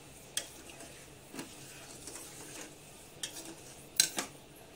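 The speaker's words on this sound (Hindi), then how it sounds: "मैंने डाल दिया है इसमें और इसको हमें चलाते रहना है।" A spoon scrapes and clinks against a pot of sticky sugar syrup for a black sour sherbet, sparse metallic taps spaced out over quiet background.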